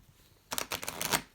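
A quick, close riffle of tarot cards being shuffled, a brief flurry of papery flicks after a moment of near silence.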